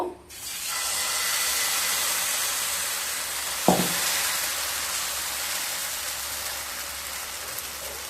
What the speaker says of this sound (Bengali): এবার ব্যাটারটাকে দিয়ে দেব।